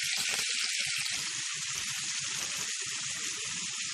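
Chicken tikka sizzles and fries in a little oil in a frying pan, a steady bright hiss running throughout with a few soft bubbling pops and light clatter underneath.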